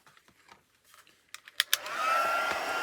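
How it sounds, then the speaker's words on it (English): After a few soft clicks and handling knocks, a heat gun switches on and settles into a steady, close blowing whir with a rising whine as it heats embossing powder over a stamped image. "we're going to grab our heat gun"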